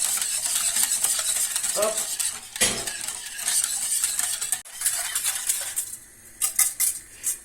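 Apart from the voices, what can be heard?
whisking hot milk into a frangipane mixture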